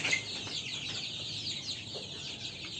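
Egyptian Fayoumi chickens at a Gazipur poultry farm cluck and chatter in a flock, a continuous mix of soft, overlapping clucks and short calls at moderate distance with no talking.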